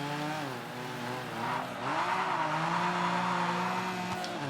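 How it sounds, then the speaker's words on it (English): A rally car in the video game Gravel drifts around corners on loose ground, its engine droning steadily and rising and falling in pitch as it slides. Tire scrub continues throughout. "Basically trying to drift around every corner."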